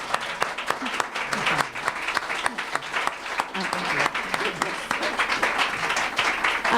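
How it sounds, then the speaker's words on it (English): An audience applauds authors and poets at a literary event, a moderate round of uneven, distinct claps from a modest crowd, with some talking underneath, continuing steadily throughout. "You all want to give a round of applause for our authors and poets."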